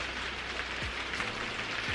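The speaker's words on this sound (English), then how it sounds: "And it's just started raining." Steady rain patters on a surface outdoors, a broad even hiss with no voices, during work on a Ford Fiesta's brake pipes.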